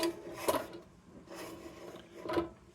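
A chopstick scrapes paint remnants off an Embury Defiance no. 0 lantern during restoration, giving quiet, close rasping strokes in short bursts with pauses between.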